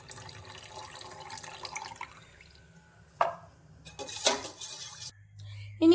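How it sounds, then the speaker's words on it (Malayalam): Juice squeezed from three lemons is poured into a container of fresh spinach juice in a home kitchen, a short liquid splash amid light clinks of dishes and utensils, with no talking. "ഇനി നമുക്കിതിലേക്ക് നാരങ്ങ നീര് ഒഴിച്ചു കൊടുക്കാം."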